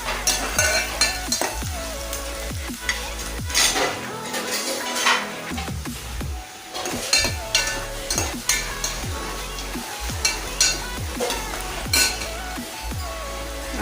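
Onions and green chillies frying in a pan for keema curry, with a steady sizzle, repeated stirring scrapes and occasional clinks of a spoon against the pan, close and fairly loud throughout.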